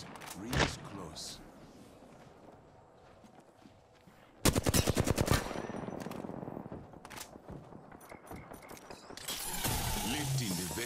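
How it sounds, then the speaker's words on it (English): Video game gunfire in Apex Legends, a sudden rapid burst of automatic shots after a quieter stretch of mechanical clicks, followed by further scattered shots and a noisy ability effect. "Shot fired. They're hitting me. Let me fire."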